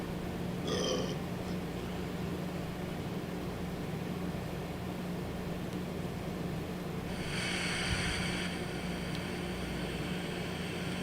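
A single short burp rises briefly near the start over a steady low electrical hum, followed later by a bright, hissy tonal noise in the background, with no one speaking.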